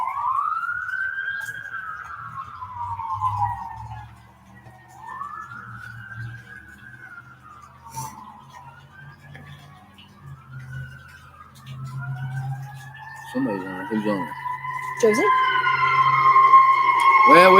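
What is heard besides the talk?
fire truck and ambulance sirens passing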